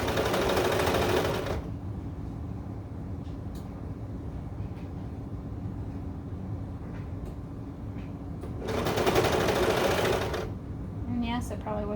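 A serger runs in two loud, close bursts of rapid whirring stitches through layered fabric for baby bummies, separated by a long quieter stretch of handling noise while someone speaks.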